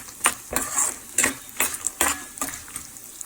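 Peanuts, urad dal and chana dal roasting in a pan, heard as a series of short scraping stirs and rattles, about five or six distinct strokes, close and fairly loud with a faint sizzle beneath.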